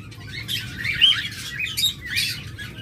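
Pet lovebirds or budgerigars, a breeding pair, chirp and tweet in a steady stream of bright, overlapping calls close by, with no talking.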